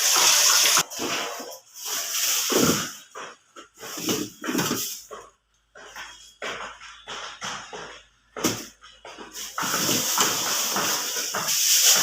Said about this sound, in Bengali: ডালটা আগে ভালো করে ধুয়ে নিচ্ছি